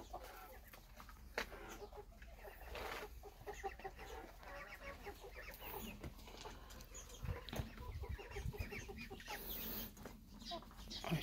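Farm poultry, including muscovy ducks and New Hampshire, Australorp, ISA Brown and Leghorn chickens, cluck and call in a continuous busy background, moderately loud, with scattered bursts and other farmyard noise throughout.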